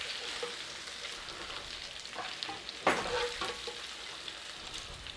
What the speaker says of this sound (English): We're going to take our liner and we're going to put our lamb in there.